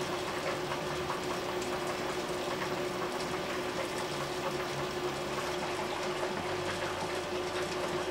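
An HHO torch flame plays steadily over a glass bead, a constant dense roaring hiss with a faint hum running underneath and no break for the whole stretch.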